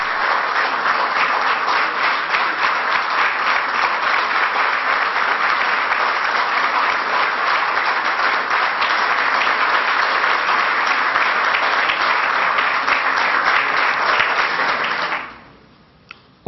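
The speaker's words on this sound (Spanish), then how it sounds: "Un merecido aplauso que rubrica el reconocimiento que hoy nos ha convocado en este lugar." Audience applause at a book presentation, a dense, even roar of many hands clapping that holds steadily for about fifteen seconds before fading quickly into near silence.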